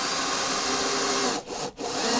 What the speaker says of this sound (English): I place it here, and I'm screwing.